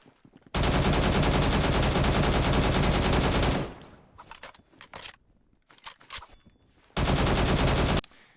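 AK-47 gunfire in a video game: a sustained, loud burst of automatic fire lasting about three seconds, then brief handling clicks and clatter, then a second burst of rapid fire.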